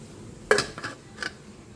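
A lid goes onto a cooking pot of sinigang with shrimp, making one sharp metallic clank followed by two lighter rattles, close and with no talk.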